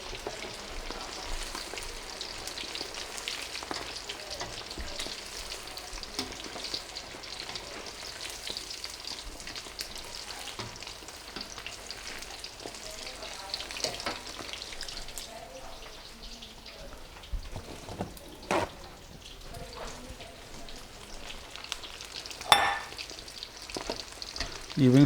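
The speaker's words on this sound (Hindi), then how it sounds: "ये विंग्स फ्राई हो रहे हैं" Chicken wings deep-fry in oil with a continuous bubbling sizzle that holds steady for the whole stretch, with a few sharper clatters and knocks near the end.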